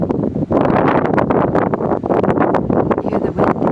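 Steady wind gusts outdoors on a cool fall day in the Blue Ridge area, roaring and buffeting the microphone continuously with rustling surges throughout.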